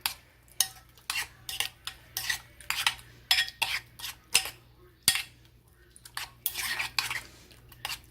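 A spoon scrapes and clinks against a bowl while peach pie filling sprinkled with cinnamon is stirred, giving a series of irregular, close knocks and scrapes at a steady working pace.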